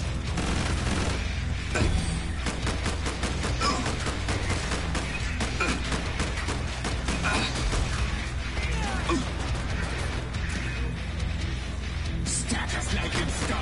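Rapid video game gunfire while shooting zombies, dense bursts of clattering shots and mechanical clicks running continuously and loudly throughout.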